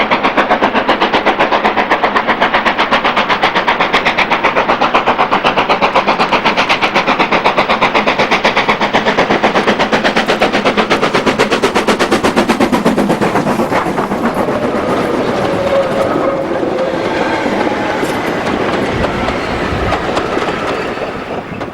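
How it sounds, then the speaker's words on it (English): Steam locomotive 45212 hauls a freight train from Ingrow to Oxenhope past Mytholmes in February, its loud, rapid exhaust beats pounding steadily and close, then easing slightly as the train rolls on. "45212 passes Mytholms with an Ingro to Oxenhope freight in February"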